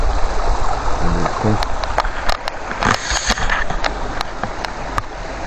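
Water rushes steadily in a forest river, loud and near, a constant broadband wash with a few sharp clicks and brief murmurs of voices in the background.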